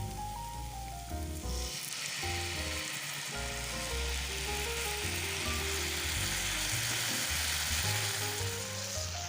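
Tamarind water poured into frying garlic masala for a Tamil garlic pickle, raising a loud continuous sizzle that starts softer and swells into a bright, steady hiss under faint background music.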